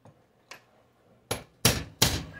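A hammer taps on a bent storm door hinge with a few sharp metallic strikes, two light taps followed by three harder, louder blows close by.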